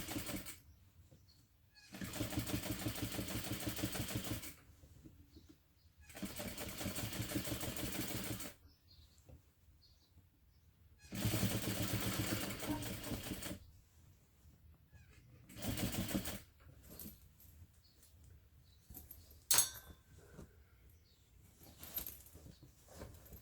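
A sewing machine stitches bag handles down to the main panel, running in several bursts of a few seconds each with quiet pauses between, and a brief clack near the end.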